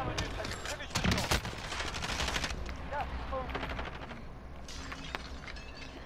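Gunshots in Call of Duty Warzone, a few sharp close shots followed by bursts of automatic fire and scattered distant shooting, with voices talking over the combat.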